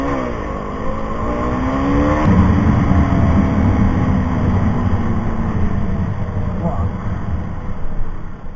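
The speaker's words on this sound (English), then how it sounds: "Holy shit, I got one Mustang GT." A Ford Mustang GT engine revs and accelerates close by at a street drag race in Chandigarh, its rising pitch sweeping upward before settling into a loud sustained roar, with another quick rev near the end.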